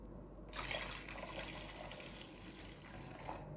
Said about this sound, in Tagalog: magdadagdag ako ng tubig